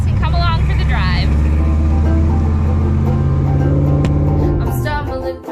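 A 1957 Chevy cruises along with a steady low engine drone that fades slightly at the end, and a person talks over it throughout.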